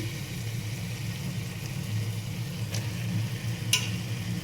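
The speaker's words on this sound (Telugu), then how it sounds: "మనము ఇప్పుడు ఈ ఫిష్ ముక్కలు అనేవి మంచిగా ఇలా వేసేసుకోవాలి." Fish pieces fry in a pan for a fish curry, giving a steady close sizzle over a low hum of the stove, with a couple of sharp crackles near the end.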